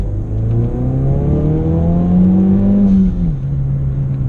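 A Ford Focus RS with an E-tuned engine pulls hard in second gear, a loud, close engine note rising steadily in pitch for about three seconds before dropping at a shift and continuing to drone.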